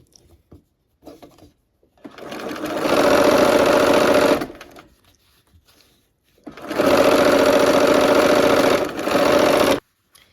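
Quilt rows being stitched on a sewing machine with pinned seams, two steady runs of a few seconds each separated by a pause, close and loud, with faint handling noises between.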